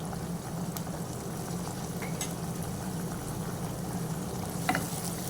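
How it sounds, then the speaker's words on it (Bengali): Onions and ground spices including turmeric, coriander, cumin and chili powder sauté in a pan for kachki fish chorchori, a soft steady sizzle with occasional faint stirring clinks. "ভালোভাবে কষিয়ে নিব।"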